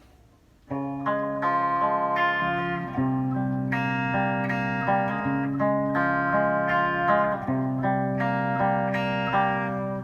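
Distorted electric guitar riff with shimmering effects, ringing chords and repeating melodic notes played continuously, loud and reverberant.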